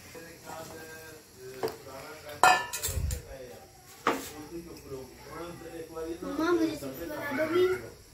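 Spoon scraping and clinking against a pot while potato and cauliflower curry is stirred, a few sharp metallic knocks under continuous talking.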